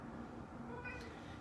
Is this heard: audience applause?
no